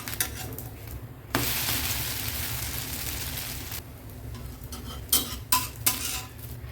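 A dosa of soaked, ground batter sizzles on a pan while being flipped. A burst of hissing is followed by several sharp metal spatula clinks and scrapes toward the end, close and clear, with no voices.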